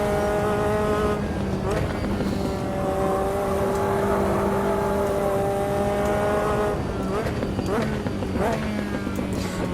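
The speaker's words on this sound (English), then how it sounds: "As you might be able to tell by the enthusiastic way I'm flipping the throttle there." A race car in the Automobilista 2 driving simulator has its throttle blipped repeatedly, the engine note rising and falling in loud harmonic revs that sweep up and back down several times.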